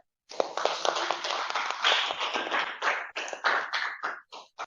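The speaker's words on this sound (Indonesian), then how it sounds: "Kita beri aplaus ya" Applause for a student presentation group in a classroom, a burst of clapping from several people that starts suddenly, stays dense for a few seconds, then thins into scattered last claps before stopping.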